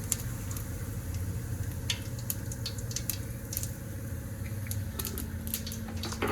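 Onions sizzling in hot oil for a vaghar tempering, a steady close crackling hiss with scattered sharp pops and ticks running throughout, no voices.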